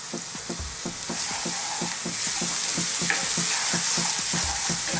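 Steady loud sizzling of onions and fresh curry leaves frying in hot coconut oil, with rhythmic stirring scrapes throughout; no talking.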